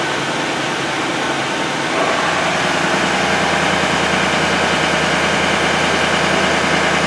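A Ford 6.7 Powerstroke diesel engine running at low boost with a check engine light on, giving a steady, loud broadband roar with a low hum that steps up slightly in level about two seconds in.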